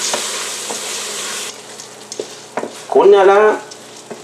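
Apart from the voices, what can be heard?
stirring arborio rice in tomato juice in a pot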